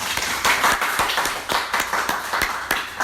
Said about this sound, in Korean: 교수님께 다시 한번 큰 박수 한번 보내드리겠습니다